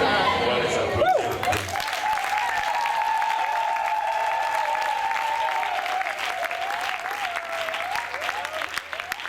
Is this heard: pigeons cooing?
no